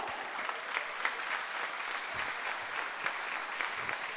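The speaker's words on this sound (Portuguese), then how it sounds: "Aplaudam o Senhor." A church congregation applauds during a sermon, a dense, fairly distant wash of many hands clapping steadily with no voices standing out.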